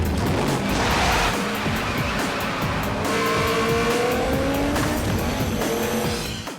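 A 900-horsepower Detroit muscle car roars loudly with squealing, skidding tires and rising engine pitch, a continuous close, aggressive burst with no voices.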